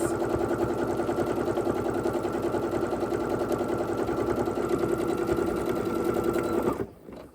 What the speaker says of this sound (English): Start with a back stitch and just sew straight across.